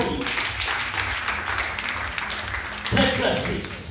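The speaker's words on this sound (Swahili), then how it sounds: "Pigia Bwana makofi." Church congregation clapping for the Lord, a dense, steady wash of hands that swells louder near the end, with voices mixed into the crowd noise.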